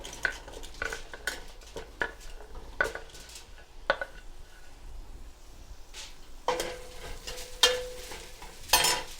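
Onions and green chilies frying in ghee in a pan for biryani, stirred with a utensil: soft sizzle beneath repeated sharp scrapes and clinks against the pan, quiet and close.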